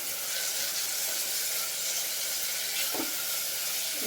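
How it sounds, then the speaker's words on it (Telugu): Onions and green chillies frying in a pan over medium flame give a steady, soft hiss and sizzle that continues without pause, with faint stirring sounds and no talking. "ఒక 5-10 మినిట్స్ ఫ్రై చేసుకోవాలి మీడియం ఫ్లేమ్లో పెట్టుకొని ఈ ఆనియన్స్"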